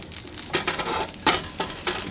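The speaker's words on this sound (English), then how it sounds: "Stir that around. We want the butter all up on the sides as well." Butter sizzling in a pan as it is stirred around and up the sides, close and moderately loud, with a run of scraping strokes over a steady hiss.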